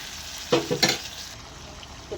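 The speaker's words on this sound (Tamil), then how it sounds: "தக்காளியை நல்லா வதக்கிடுவோம்" Tomatoes sautéing in a pan for dried fish curry, a steady close sizzle broken by a few quick scraping stirs of a spoon, with no talking.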